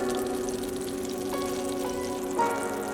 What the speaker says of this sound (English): start stirring in the 3 tablespoons of honey.